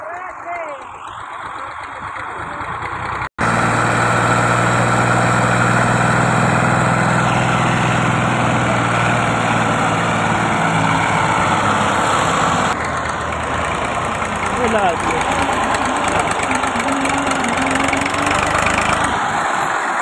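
A tractor engine runs steadily and loudly throughout after a sudden start, with a continuous rumbling drone and some clatter.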